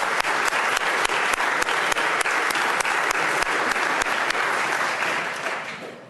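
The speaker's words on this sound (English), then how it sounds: "I hope you give a warm round of applause and welcome to the Tandem Friends" Applause in the House chamber welcoming visiting school students, a steady round of clapping with sharp, regular clap peaks, then tapering off at the close.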